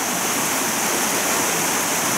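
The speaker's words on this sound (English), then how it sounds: "The sound of the river is masking your noise if you're quiet" A flowing river along a creek bed rushes in a dense, continuous, fairly loud wash of water with no talking.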